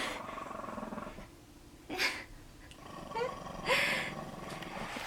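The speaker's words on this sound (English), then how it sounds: "my other dog just climbed over there and stepped on him" A pet dog growling low and rumbling after being stepped on by another dog, close and fairly quiet, with a couple of brief louder rustling bursts of movement breaking the steady growl; no talking.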